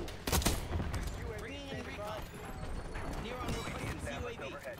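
Gunfire in the Overwatch 2 shooter game during a ranked match, a quick loud volley of shots at the start followed by game effects and chatter under a player's voice talking over the action.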